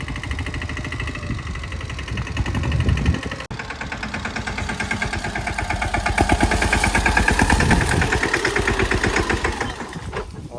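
A tractor engine chugs at a steady idle, rhythmic mid-pitched knocking pulses continuing close by with a brief dip partway through.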